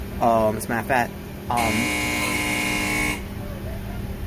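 An amusement ride's start buzzer sounds as one steady, droning tone lasting about a second and a half, following a brief burst of someone talking, with faint background noise throughout.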